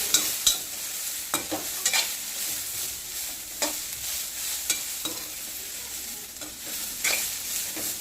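Cluster beans are stirred and dry-roasted in a pan, a steady sizzle punctuated by repeated spatula scrapes and taps at an irregular pace, heard up close without talking.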